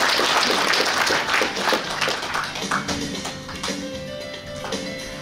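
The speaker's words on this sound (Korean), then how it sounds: "다시 한번 뜨거운 박수 부탁드립니다." A crowd at a Korean political campaign rally breaks into warm applause. The steady wash of clapping is fairly close and full, with music tones emerging underneath as it continues.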